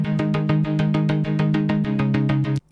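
Serum synth pluck, its volume pumped by an LFO for a sidechain effect: a fast, even train of rhythmic pulses repeating about twice per half-second, loud and close, cutting off abruptly at the end.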